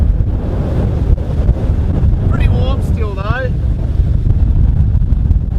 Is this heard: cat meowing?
no